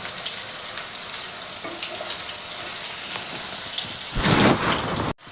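Sliced okra with fresh coconut fries in a pan, a steady crackling sizzle throughout with a louder burst of hissing near the end.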